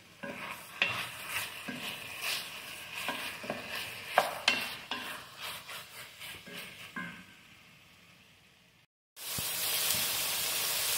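Chicken cooking in a frying pan, sizzling while a utensil stirs and scrapes in irregular clanks, fading before a sudden louder, steady hiss takes over at the end.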